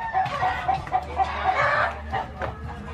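Several chickens cluck nearby in short, repeated bursts, with a brief crow-like call mixed in.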